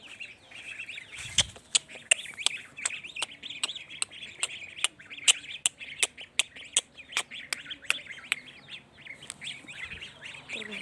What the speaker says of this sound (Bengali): হাঁস মুরগি দেখছি আমাদের দর্শক আমাদের হাঁস মুরগি